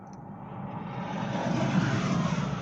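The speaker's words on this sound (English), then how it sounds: "Ooh, that was an airplane." A fixed-wing airplane passes overhead as a broad, smooth engine roar that swells steadily over a few seconds, moderately distant with no voices.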